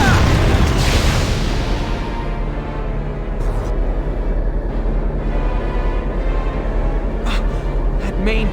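Tank main cannon fire in the Valkyria Chronicles video game, a heavy opening boom followed by rumbling explosions and scattered impacts over ongoing battle noise.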